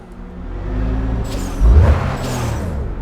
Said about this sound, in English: Hold on, is that the transmission?